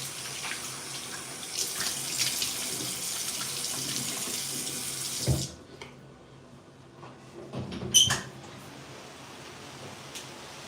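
Tap water runs steadily into a bathroom sink during a face wash with special soap, a continuous close hiss that cuts off midway, followed by a few brief clatters and handling knocks.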